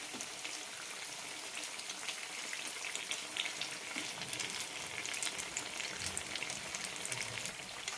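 Unniyappam frying in oil in a pan over medium-low flame, a dense, even crackling sizzle with fine bubbling pops, steady and close throughout with no voices.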